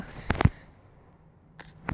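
A video game explosion from a nuclear-strength bomb goes off as a few sharp, loud blasts in quick succession, followed by a quieter stretch and two fainter bursts near the end, with no talking.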